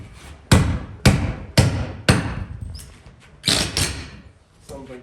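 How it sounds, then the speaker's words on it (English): Hammer blows and prying during building deconstruction, as a fixture is knocked loose: four sharp, heavy thuds about half a second apart, then a rougher scraping knock, loud and close with no one talking. "I'm gonna hammer and a bit of prying, pop that thing right out"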